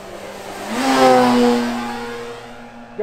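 Engine of a large radio-controlled Tiger Moth model biplane with 2150 mm wingspan opened to full power, a buzzing whine that rises in pitch and swells loudly, then settles to a steady high drone.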